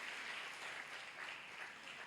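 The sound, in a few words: congregation applauding in church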